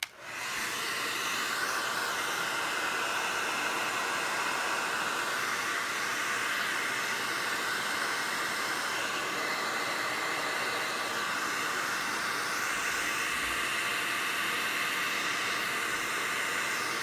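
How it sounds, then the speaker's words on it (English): A hair dryer blows steadily with a constant airy whoosh and hiss, running close and uninterrupted throughout. "I hit it with a hair dryer."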